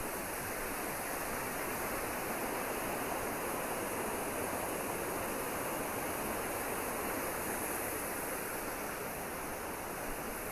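Reekie Linn waterfall roars continuously on an unusually low river, a dense, steady rush of falling water with no voices.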